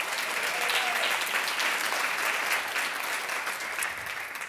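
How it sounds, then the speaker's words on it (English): A conference audience gives a round of applause for sponsors at a business event, dense continuous clapping that holds steady before tapering slightly at the end, fairly distant and without speech. "let's give them another round of applause"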